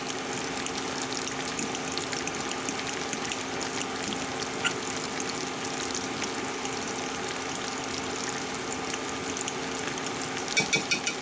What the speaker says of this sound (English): now I'm going to stir this up